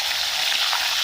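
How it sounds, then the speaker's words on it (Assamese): Fish fries in hot oil in a clay kadai, a dense, steady close sizzle with no pauses over a brief moment. "মাছখিনি আধা ভাজি ল'ম।"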